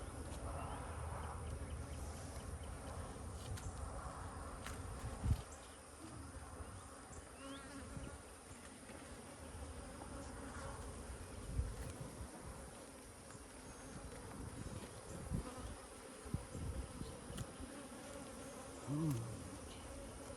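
Honey bees buzz around an opened beehive, a faint, continuous drone of many insects close by, with occasional handling knocks.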